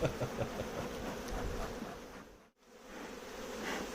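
Honeybees swarm in a steady, dense buzz close by while their frames are shaken during a hive inspection, the drone continuous across the whole stretch apart from a brief dip partway through.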